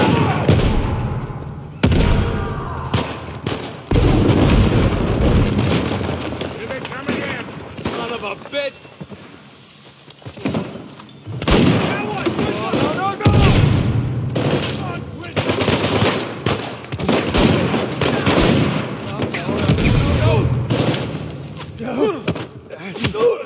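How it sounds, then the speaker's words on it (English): Gunfire and explosions in a video game ambush inside ancient ruins, with a grenade blast among heavy, continuous shooting and loud thuds while players talk excitedly over the action. "That's a grenade."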